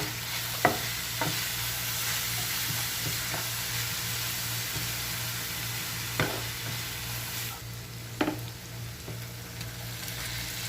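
Ready-made fish masala sautéing in a pan for an Assamese-style fish curry, a soft continuous sizzle under a faint hum, broken by occasional sharp clicks of a utensil against the pan.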